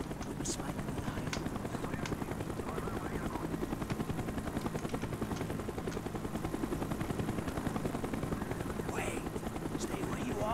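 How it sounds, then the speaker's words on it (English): Helicopter rotor chatter from the video game Call of Duty: Black Ops, a steady dense thrum circling close throughout, mixed with game combat noise such as distant gunfire. "The chopper is coming around again."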